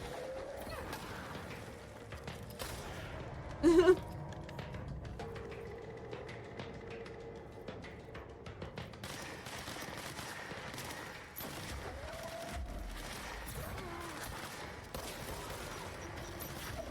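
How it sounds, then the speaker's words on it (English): Explosions and gunfire from the video game Control, with grenades bursting amid steady combat noise and a sharp, loud blast standing out briefly near the start. "He's dropping grenades on me."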